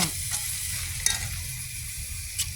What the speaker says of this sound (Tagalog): Ayan, corned beef po yung niluluto natin.